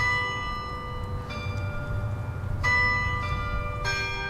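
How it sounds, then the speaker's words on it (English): Large carillon tower bells ring out in overlapping, sustained tones, struck by fists on the keyboard, with new strikes landing every second or so over a low, steady background rumble. "You drop your fists on it, and it makes the bells ring."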